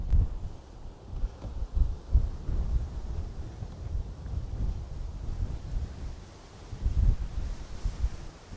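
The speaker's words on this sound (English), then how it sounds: "I want you to see how windy it is today in Irvine." Strong wind in Irvine, California buffets the microphone outdoors in a continuous, gusty low roar that swells and eases, with no voices.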